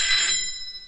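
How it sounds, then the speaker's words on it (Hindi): A telephone rings with a bright, electronic trilling tone that sounds loudly for a short burst and then fades away over about a second, with no talking over it. "फोन बज रहा है तेरी"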